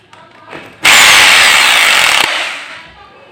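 A repaired Makita electric drill, formerly failing to power on, whirs loudly for about a second and a half after a brief start, then winds down as it stops; faint background noise before and after.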